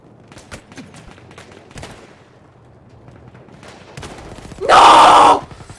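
Gunfire in Battlefield 1 multiplayer, scattered distant sharp shots followed by a loud, close burst of automatic fire lasting under a second near the end.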